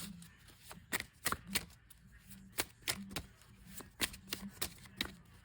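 Tarot cards are shuffled for a reading, a series of sharp, close riffling taps and flicks in an irregular rhythm, quiet between bursts, with no voice.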